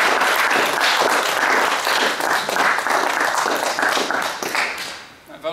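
An audience breaks into a warm, sustained round of applause at a talk on lawsuits against public participation, with dense clapping filling the room and fading out at the end.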